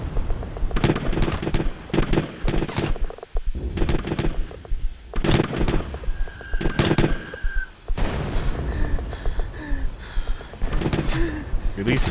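Gunshots in Letters of Bernard Thorne, a series of sharp, loud reports spaced irregularly over several seconds, with a voice talking and gasping between and under them.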